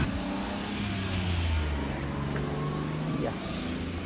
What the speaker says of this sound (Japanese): やだ、交通量多いわ。